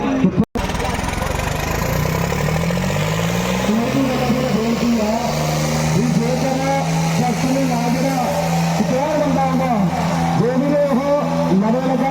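A tractor revs hard in a sports ground during a stunt show, its loud engine climbing and wavering through repeated throttle surges, with a crowd and an announcer's voice over it.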